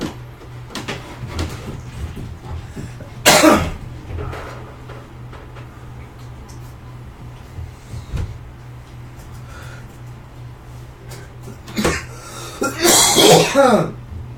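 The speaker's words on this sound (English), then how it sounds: "Coughing my ass off." Two bursts of harsh coughing, one early and a longer cluster near the end, over a steady low hum with scattered small noises.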